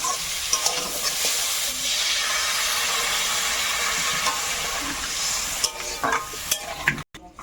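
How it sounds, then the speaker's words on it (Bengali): Water added to a pan of fried spices such as coriander powder erupts into loud, steady sizzling and steaming hiss close by, with a few stirring clinks near the end. "ভাজা মশলা দেওয়ার পরে বেশি আর নাড়াচাড়া করবো না এবারে জল দেবো"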